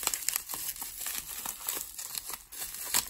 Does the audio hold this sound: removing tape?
yes